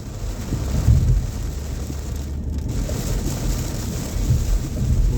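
Heavy rain drums steadily on a moving car during a downpour on Nova Road toward International Speedway Boulevard in Daytona Beach, Florida, a dense roaring hiss with low rumbles throughout and no voice.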